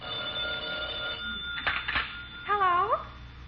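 Old-fashioned telephone bell ringing indoors in a home, a steady ring followed by a sharp clatter and a warbling tone, with a voice speaking briefly nearby.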